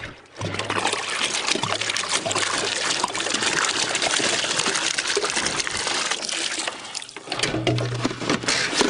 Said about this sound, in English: Wash it off into that blue bowl until this is all done.